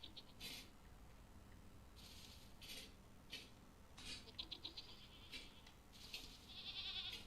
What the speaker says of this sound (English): And they do make goat noises.